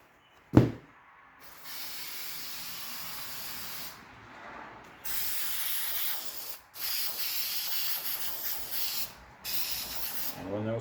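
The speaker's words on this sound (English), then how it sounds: "now I'm going to spray this part on." Spray adhesive hisses onto a Triumph Spitfire seat cover and foam in several long, loud bursts separated by short pauses, after a sharp knock at the start.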